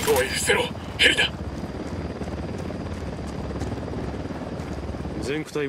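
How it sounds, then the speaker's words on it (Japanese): A helicopter's rotor thumps steadily throughout in the video game Ghost Recon, loud and continuous, with voices speaking briefly at the start and end. "おい、伏せろ、ヘリだ。"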